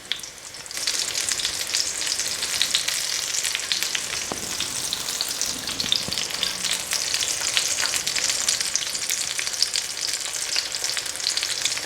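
Thin pounded German schnitzel frying in a pan gives a loud, dense, steady sizzle with crackling pops that starts abruptly and continues unbroken, close up, with no talking.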